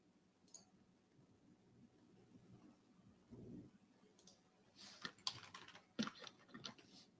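Quick tapping on a computer keyboard while entering credit card details, faint and close, with a few louder clicks toward the end and no talk.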